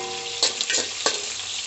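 Black cumin seeds tempering in hot oil over a low flame, a steady close sizzle with a few scraping stirs of a spoon cutting through.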